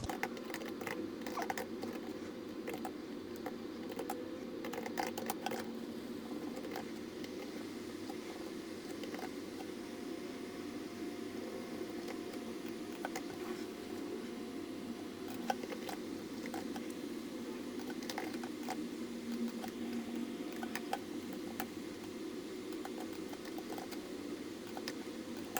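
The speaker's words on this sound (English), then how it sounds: "So a bit of typing" Steady typing on a computer keyboard, a continuous patter of light key clicks under a low constant room hum, fairly quiet and close, with no pauses over the whole stretch.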